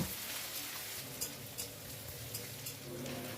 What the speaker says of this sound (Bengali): আলু পেঁয়াজ একসাথে আবারও কিছুক্ষণ ভেজে নেব